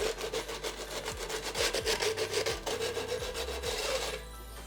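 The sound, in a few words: nail file buffing edges of a tin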